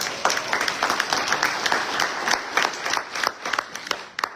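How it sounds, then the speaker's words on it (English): A town hall crowd in Asheville, North Carolina applauds steadily, with dense overlapping claps that fade slightly toward the end. "That deserves a round of applause."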